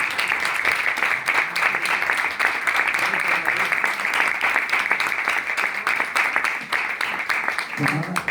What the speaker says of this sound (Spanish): Pues entonces te dedicamos un gran aplauso,